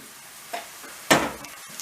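A spoon stirs tomato paste into sautéed ingredients in a pan for a borlotti bean pilaki, giving a soft scrape at first and then one louder, brief stirring scrape, with a faint sizzle underneath.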